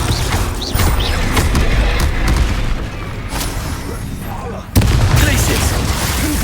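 Spell impacts from the Hogwarts Legacy video game, an ice Glacius blast and a fiery Confringo hit, landing as loud booming crashes over a dense wash of combat noise, with one sharp new impact near the end.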